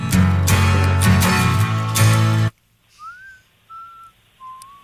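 A person whistles a tune in three short, clear sustained notes, close and alone, right after a burst of loud music cuts off.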